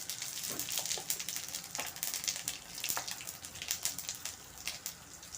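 A bay leaf and cumin seeds, added with dried red chillies, fry in hot oil with a continuous close sizzle and scattered sharp pops and crackles.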